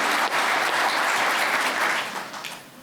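An audience claps for a deputy governor at a government accountability event, a steady burst of many hands that tapers off toward the end.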